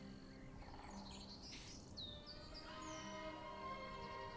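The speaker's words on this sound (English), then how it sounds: "What the fuck is these annoying bird sounds? It's nature, bro." Birds chirp and sing outdoors in scattered short whistles and tweets over a faint steady background hum, soft and somewhat distant, with no voices.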